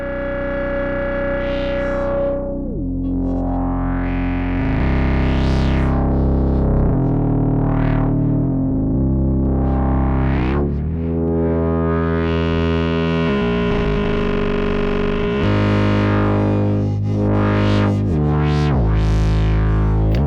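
An Instruō tràigh synth module used as a sub-overtone generator produces a loud, continuous, harmonically rich drone whose pitch sweeps up and down, with buzzy distorted layers of stacked subharmonics shifting and gliding.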